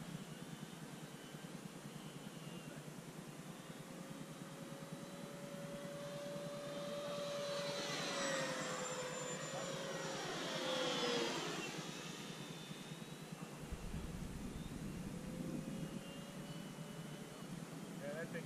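RC F4U Corsair and P-47 warplane models make a low left-to-right pass, their motors' whine rising and sweeping in pitch to a peak mid-pass, then fading over steady outdoor wind noise.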